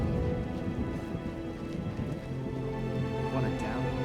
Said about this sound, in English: Real downpour.